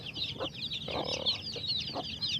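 Chicks on a small farm give a continuous high peeping chorus, with a few low clucks from older birds breaking in now and then, heard fairly close and moderately quiet.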